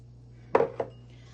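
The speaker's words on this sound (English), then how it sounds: "I'm gonna add the fresh blueberries and fold them in gently" While fresh blueberries are gently folded into muffin batter, a utensil knocks twice against the mixing bowl, giving a sharp clink and then a softer one close by in an otherwise quiet kitchen.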